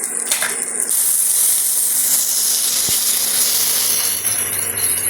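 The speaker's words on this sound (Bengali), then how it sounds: "বাকি যে গুঁড়ো মশলাগুলো ছিল সেগুলো একে একে এর সঙ্গে অ্যাড করে দেওয়া হলো, দিয়ে ভালো করে মশলাটাকে এবার কষিয়ে নিতে হবে" Ground spices sizzling and frying in hot oil in a pan for a pumpkin and potato curry, a loud, close, continuous hiss with a couple of sharp pops, no voices.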